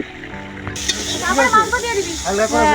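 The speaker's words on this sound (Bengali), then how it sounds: "এদিকে এখন আলু নাড়া হচ্ছে, মাংসের আলু ভাজা হচ্ছে।" Potatoes frying and being stirred in a pan for a meat curry at an outdoor Holi picnic, a soft continuous sizzle with occasional stirring, partly under people talking nearby.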